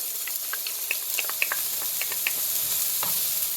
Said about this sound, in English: Now we're gonna add chopped garlic.